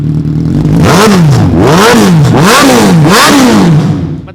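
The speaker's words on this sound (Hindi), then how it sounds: "वूम वूम की आवाज़ सुना दूँ एक बार" A loud superbike engine with a double exhaust revs repeatedly, pitch climbing and falling in rhythmic bursts, close and deep-throated with no talking.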